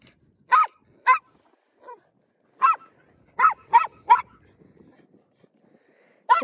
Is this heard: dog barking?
yes